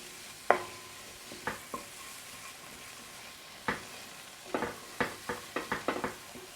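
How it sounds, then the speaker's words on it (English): A flour roux being stirred as it cooks in a pan for a plant-based mac and cheese, giving soft intermittent scraping and stirring strokes over a faint sizzle, sparse at first and then a quicker run of strokes near the end. "what we're doing at this stage is cooking out the flour"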